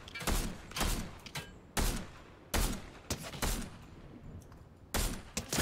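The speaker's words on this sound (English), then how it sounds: "I just hear gunfire." Video game gunfire cracks out in several bursts of rapid shots, loud and close, separated by short quiet gaps, with no voices over it.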